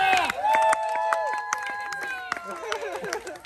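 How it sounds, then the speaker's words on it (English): Applause and whooping cheers ring out from guests at a Hollywood dinner party, with scattered claps and excited shouts layered over lively voices for a few seconds. "everybody give AB a round of applause"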